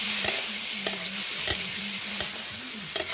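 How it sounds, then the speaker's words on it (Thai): Mushrooms with shrimp stir-fried in oil in a pan, a steady close sizzle broken by repeated scrapes and clanks of a utensil stirring, with no talk. "กำลังผัดเห็ดนะคะ"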